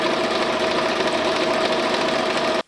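A sewing machine stitches fabric for a book holder cushion, giving a steady, even mechanical whir that runs close and unbroken for over two seconds, then cuts off abruptly. No one speaks.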